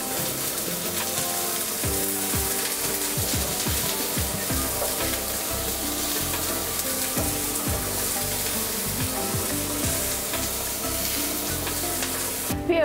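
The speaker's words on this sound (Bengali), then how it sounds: "এবার আমি এই তেলের মধ্যে পেঁয়াজ দিয়ে দিচ্ছি আর এই পেঁয়াজকে ব্রেস্তা করে নেব" Onions fry in hot oil for a mashed spice bharta, a continuous close sizzle with occasional stirring and scraping, no voices.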